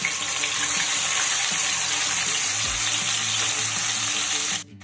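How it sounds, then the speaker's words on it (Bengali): Mustard, poppy seed and green chilli paste frying in a pan, producing a loud, dense sizzle that holds steady throughout, then cuts off abruptly near the end. "এবার আমি দিয়ে দেব সর্ষে পোস্ত কাঁচা লঙ্কার পেস্ট।"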